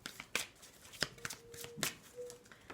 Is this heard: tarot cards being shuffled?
yes